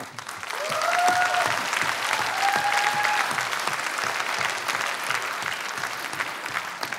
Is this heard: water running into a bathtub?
no